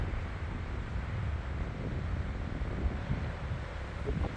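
Strong wind buffets the microphone outdoors in the Netherlands, beside a long flower-lined road with a canal and bike lane. It makes a constant loud rumbling roar that fills the whole clip.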